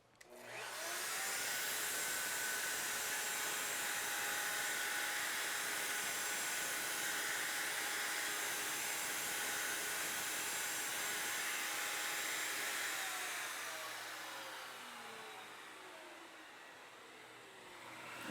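A PantoRouter taking one more light cutting pass on a wooden workpiece: a loud, steady high-pitched router whine that holds for about twelve seconds, then spins down and fades as the pass ends.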